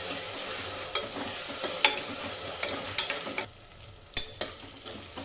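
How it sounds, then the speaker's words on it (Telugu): Ginger garlic paste fries in a hot pan with a steady sizzle, while a spoon scraping and stirring adds sharp clicks and clatters over the hiss. "ఒక స్పూన్ అల్లం వెల్లుల్లి పేస్ట్ అన్నీ వేసి మంచిగా ఫ్రై చేసుకుందాం."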